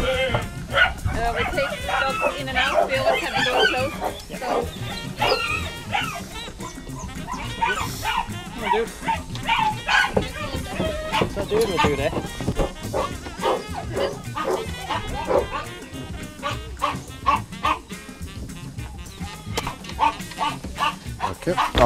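Many rescue dogs on a long road journey bark, yip and whimper in a continuous, overlapping chorus, close by and loud, with people talking among them.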